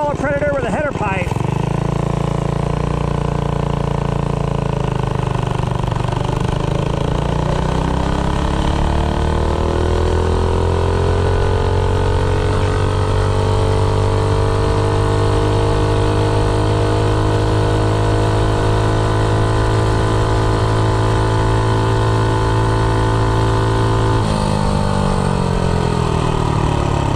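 A Predator 212 small engine fitted with a header pipe in place of the stock muffler revs hard through a top speed run, a loud, sustained buzzing drone whose pitch climbs steadily and holds high for most of the stretch.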